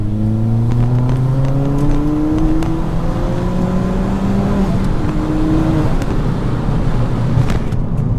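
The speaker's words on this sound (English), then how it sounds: "you get so many good noises from the induction kit, from the intake, from the blow off" A Ford Fiesta ST with an X48R Stage 3 turbo build, induction kit and blow-off valve accelerates hard through rising engine tones and several gear changes, loud and steady from inside or near the car, with no talking.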